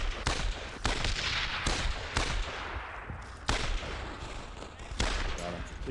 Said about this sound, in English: Watch it, you're taking fire.